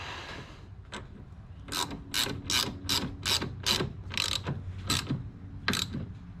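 A ratchet tightens 13 mm bolts on a steering shaft during a power steering install, giving bursts of rapid clicking strokes in a steady rhythm, close and clear with no talk.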